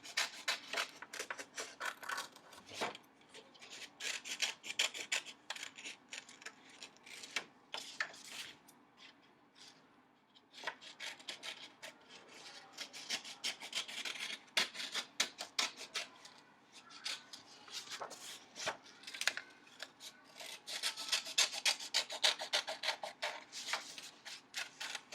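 Scissors snipping steadily through paper to cut out a pair of paper glasses, a soft, close series of crisp cuts and rustles with short pauses, no talking.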